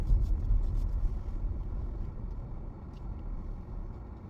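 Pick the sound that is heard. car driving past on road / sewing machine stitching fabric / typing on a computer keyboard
car driving past on road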